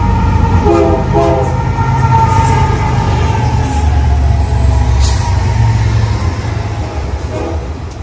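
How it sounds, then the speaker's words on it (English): A passing Canadian National freight train sounds a horn salute, with loud sustained horn notes near the start over the heavy rumble and clatter of rolling cars. "Also got some horn salute from the engineer of this train"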